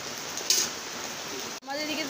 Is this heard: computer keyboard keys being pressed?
no